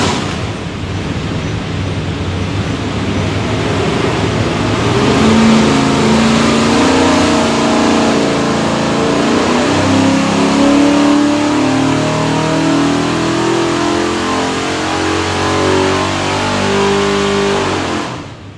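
A 427ci Windsor V8 in a '56 Ford F100 revs hard on a chassis dyno, loud and sustained, its pitch climbing steadily through a long pull for most of the run before easing off at the end.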